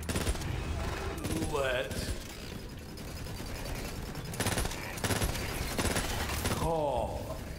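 Gunfire in the video game Borderlands 3: rapid bursts of automatic weapon fire and mechanical clicks, loud and near, mixed with game effects and a voice speaking over it.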